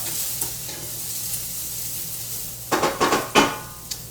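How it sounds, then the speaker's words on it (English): Zucchini frying in a pan for a veggie-packed tofu scramble, with a quiet steady sizzle and then several sharp scraping stirs of a utensil against the pan near the end. "I do want to cook it down a little bit so it softens"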